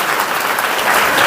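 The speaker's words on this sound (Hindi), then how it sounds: "ताली बजा के प्रभु का नाम का महिमा करें।" A church congregation claps hands together, a dense, continuous wash of applause filling the hall at steady loudness throughout.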